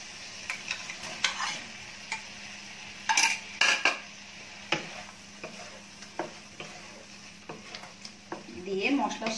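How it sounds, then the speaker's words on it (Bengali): Prawns going into fried masala in a pan and being stirred: close metallic scraping and clanks of a spatula over a low sizzle, with a louder burst of clatter midway and brisker stirring at the end. "এখন আমি চিংড়ি মাছটা দিয়ে দিব।"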